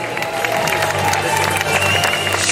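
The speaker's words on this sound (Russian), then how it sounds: "Не смолкай аплодисменты." Crowd applause for women's race medalists at a sports awards ceremony, a steady dense patter of clapping with crowd noise throughout, fairly loud and continuous.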